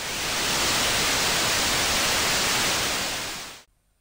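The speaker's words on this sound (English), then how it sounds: "white noise is composed of all the differently pitched sounds playing at once" A loud, even hiss of broadband noise holds steady for several seconds, then cuts off abruptly into near silence.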